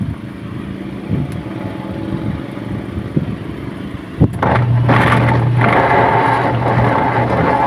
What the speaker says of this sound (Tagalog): naiiwan na po itong pulsator ano pero tuloy ang andar ng makina